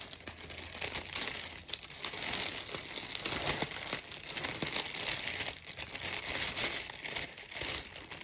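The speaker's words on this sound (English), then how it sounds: "So it came in this plastic bag." A plastic bag holding skeins of yarn crinkles and rustles continuously while being handled during an unboxing, close and fairly quiet with no talk.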